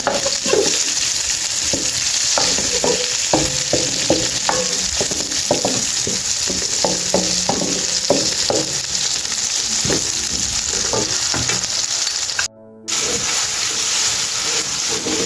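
Aloo matar, potatoes and peas, frying in a pan with a steady sizzle, while a spoon scrapes and stirs in repeated clicks and knocks throughout; there is no talk and a brief dropout near the end.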